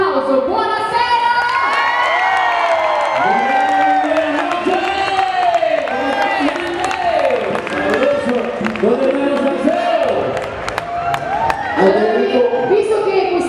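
A concert crowd at a Latin music festival in Milan cheers, whoops and shouts continuously with some clapping, loud and dense throughout.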